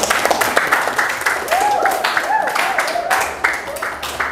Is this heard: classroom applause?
yes